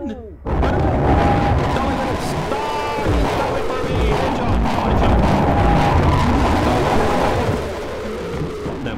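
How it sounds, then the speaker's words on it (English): Monster dying in the Human Farm video game, a loud, dense roaring burst that sustains for several seconds before fading, heard alone. "That was the sound of him dying."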